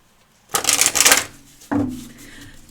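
Oracle cards are shuffled close up in two quick bursts of papery riffling, a long crisp flutter followed after a pause by a shorter one, with no talking.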